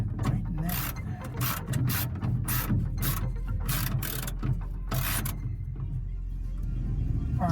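Tightening the license plate mount on a Humvee, a series of sharp repeated ratcheting clicks in bursts over steady background hum, close up, then quieter mechanical rubbing.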